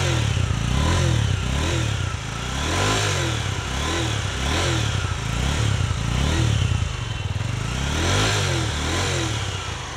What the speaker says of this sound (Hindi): इन दोनों बाइक्स का एग्जॉस्ट साउंड सुन लेते हैं। पहले हम देखेंगे V-Strom 250 का एग्जॉस्ट नोट।